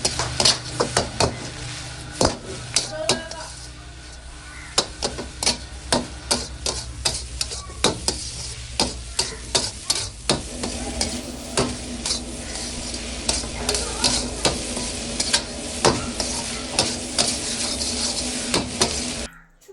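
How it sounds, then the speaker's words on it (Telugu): Carrots, beans and capsicum pieces stir-frying in a pan for dhaba-style chicken egg fried rice: a steady close sizzle runs throughout, broken by frequent sharp scrapes and clinks of a spatula against the metal, with no talking. "అవి కూడా వేసుకొని క్యాప్సికమ్ ముక్కలు కూడా వేసుకోవాలి. మొత్తాన్ని బాగా ఫ్రై అవ్వనివ్వాలి కొద్దిసేపు."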